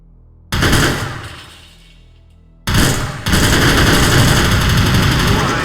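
OICW rifle fire in the shooter game Soldier of Fortune 2. One loud close shot rings out and decays, then a second shot is followed by a sustained full-auto burst. Loud and dense throughout.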